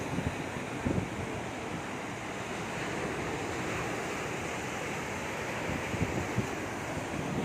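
Sea waves wash steadily onto the beach at Aparri, a dense continuous surf roar with light wind noise on the microphone and no voices.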